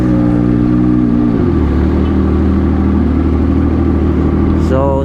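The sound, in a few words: CFMOTO 675SR-R motorcycle engine with SC Project exhaust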